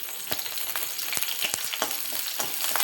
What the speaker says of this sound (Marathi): लसूण छान परतला गेला ना मिरच्या घालायच्या आहे.